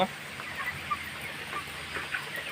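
On a poultry farm holding 1720 thirty-day-old chickens in intense heat, faint scattered chirps and peeps rise over a constant, noisy barn hum, the birds sounding some distance off.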